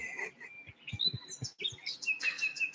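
Birds chirp and tweet outdoors in quick high repeated calls, several overlapping notes throughout, moderately close, alongside a few low thumps and no speech.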